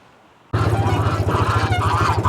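Geese on a pastured chicken farm honk loudly and repeatedly in a dense, overlapping chorus that starts abruptly and carries on close by without any talk.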